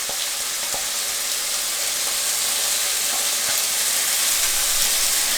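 Sauce hitting a hot pan of honey lemon chicken stir fry, a loud, steady, hissing sizzle with faint crackles and pops scattered through it, close up and without talk.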